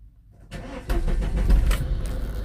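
A car engine cranks briefly after a quiet start, then catches and settles into a loud, rough close-up idle.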